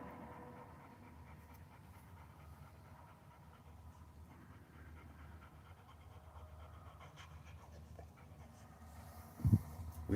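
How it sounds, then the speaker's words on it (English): Fluffy puppies pant softly and quickly at close range, a faint steady breathing that runs throughout, with a few brief louder bumps near the end. "You little fluffy puppies."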